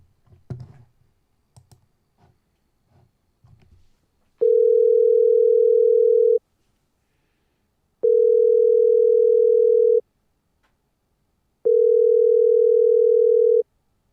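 Telephone ringing tone heard while dialing out on a call-in radio show: three long steady tones of about two seconds each, separated by silences, following a few soft clicks and handling noises.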